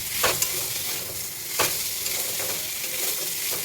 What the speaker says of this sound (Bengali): আর এখানে ডাটাগুলো দিয়ে দেবো,